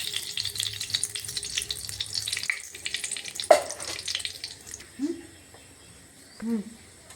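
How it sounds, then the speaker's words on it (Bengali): A tempering of dried red chili and cumin in ghee fizzes in a pan, crackling for a few seconds before fading, followed by a sharp clink and a couple of brief quieter sounds. "এবার শুকনো লঙ্কা ফোড়ন দিয়ে দিলাম, জিরা শুকনো লঙ্কা ফোড়ন দিয়ে দিলাম"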